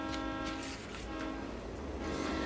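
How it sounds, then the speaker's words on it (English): A train rushes overhead in a children's picture-book read-aloud, a loud, steady rumbling roar with a horn-like tonal drone, continuous throughout and with no talking. "The train zoomed over them,"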